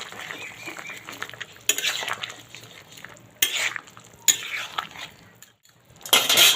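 Fried bitter gourd pieces and bori lentil dumplings tipped into a pot of shukto, with scattered clinks and stirring scrapes against the pot in short bursts, fairly close, no talk.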